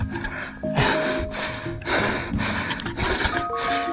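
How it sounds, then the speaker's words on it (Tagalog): A hiker pants hard after a steep climb on the trail to Kinapuin Summit near Antipolo, with repeated heavy gasping breaths close to the microphone and rustling in the background. "Hingal."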